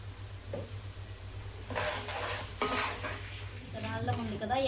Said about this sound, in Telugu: పోపు వేగిపోతుంది మనకి